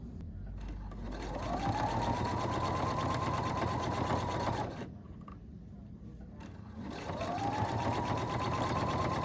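Sewing machine stitching a pillowcase seam in two close, steady whirring runs whose motor speed builds at each start, with a short pause between them.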